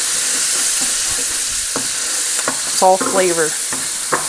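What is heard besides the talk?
sautéing food in an Instant Pot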